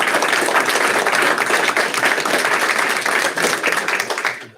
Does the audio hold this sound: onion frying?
no